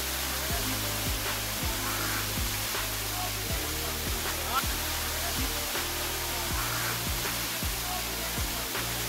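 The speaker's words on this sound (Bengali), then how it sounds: "হ্যাঁ, ঝর্ণার শব্দ পাওয়া যাচ্ছে।" The Mirinja waterfall rushes as a steady, broad hiss of falling water heard from a short distance, with faint footstep-like taps on a slippery path mixed in.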